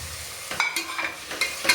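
Chopped tomato and curry leaves sizzle in a pan for mushroom biryani while a spoon stirs, scraping the pan in a run of soft, irregular clicks and scrapes over a steady low fry.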